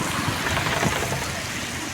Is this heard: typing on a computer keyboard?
no